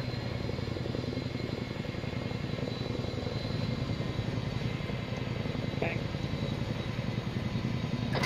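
The helicopter engine in the ArmA 3 video game gives a loud, continuous rotor thump and turbine rumble throughout, with a fast pulsing beat under the steady roar and brief radio-style voices over it.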